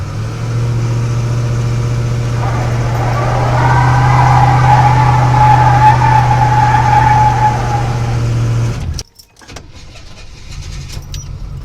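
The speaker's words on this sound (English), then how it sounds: "Let's see if we can just do like a brake stand burnout." A car held in a brake stand burnout roars with a steady, loud engine note that climbs in pitch and intensity as it is revved and then cuts off sharply, leaving quieter idling and clatter.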